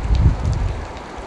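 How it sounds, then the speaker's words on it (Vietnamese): Heavy rain pours steadily during a downpour in a setting with solar panels installed, a dense broadband hiss that stays close and even throughout with no voices. "trời đang mưa rất lớn."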